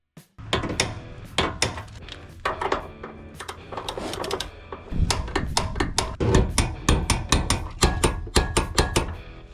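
Subframe bolts on a Pontiac Firebird being tightened, with dense bursts of rapid mechanical rattling and clicking from a power wrench, close and loud, repeating in irregular runs.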